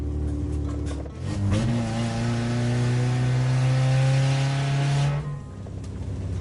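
A car engine in The Grand Tour racing video game revs hard and holds a rising, steady drone for several seconds after a brief lull, loud and close with no talk.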